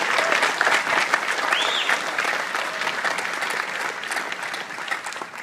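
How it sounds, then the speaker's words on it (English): A convention panel audience at San Diego Comic-Con breaks into sustained, dense applause that fills the room steadily for several seconds, with a little crowd noise mixed in. "I think that's a round of applause."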